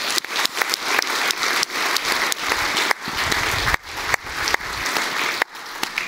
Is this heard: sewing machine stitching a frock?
no